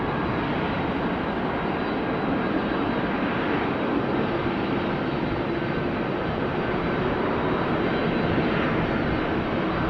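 Icelandair Boeing 757-200 passenger jet at Amsterdam Schiphol Airport, its engines producing a steady, broad roar that holds at an even loudness throughout, with no talk.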